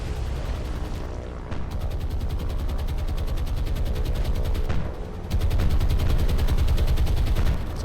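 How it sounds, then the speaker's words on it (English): Sustained rapid anti-aircraft gunfire in the naval combat game War on the Sea, a dense continuous rattle of shots with booms, dipping briefly near five seconds then returning louder, with no talk. "Anti-aircraft fire coming up."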